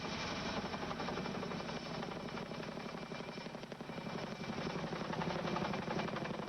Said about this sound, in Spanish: Un helicóptero del ejército de Estados Unidos fue enviado para transportar los restos.